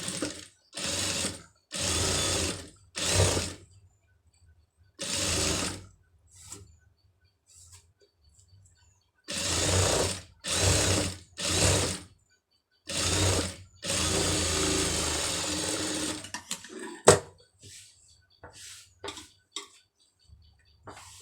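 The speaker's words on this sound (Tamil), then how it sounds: "இதை கரெக்டாக ஒட்டில் வந்து தையல் வந்து போட்டுருங்க" A sewing machine stitches sleeve lining fabric in short bursts of whirring, about a dozen runs of one to two seconds separated by pauses, with one longer run near the end.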